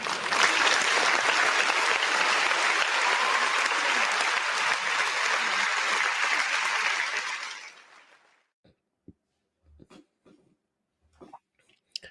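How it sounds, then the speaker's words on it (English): Sustained crowd applause at a Michigan versus Ohio State college football game after a field goal, loud and steady for several seconds before fading out into near silence with a few faint knocks. "let's give a round of applause for Zavada"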